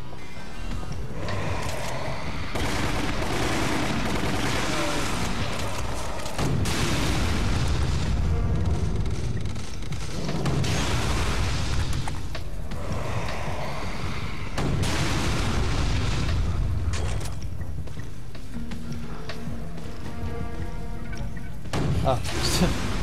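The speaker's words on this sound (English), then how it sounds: "Mid-air explosion." A mid-air explosion in Resident Evil: The Umbrella Chronicles, a deep boom inside dense, continuous game audio with repeated heavy bursts, while a player talks over it.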